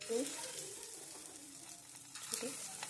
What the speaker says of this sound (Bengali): চিংড়ি মাছের পেস্টটাকে ছোট ছোট আকার করে ভেজে নেবেন